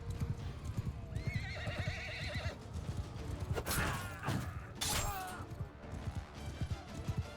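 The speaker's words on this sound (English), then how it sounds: "Oh, I think I got the horse." Horses gallop with rapid clip-clop hoofbeats and whinny loudly during a medieval battle in the strategy game Crusader Kings 3, a dense clash of cavalry with neighs rising over the thundering hooves.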